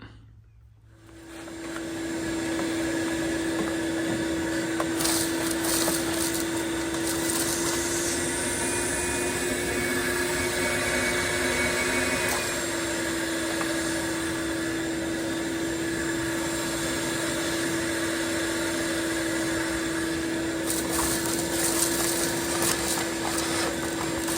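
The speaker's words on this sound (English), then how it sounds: "Okay, all vacuumed and clean." A vacuum cleaner runs steadily and loudly throughout, cleaning the interior of an old Mopar car found buried in the woods, with a constant motor whine and drone after a brief start-up.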